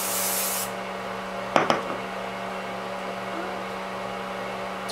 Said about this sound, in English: And a little bit of hairspray.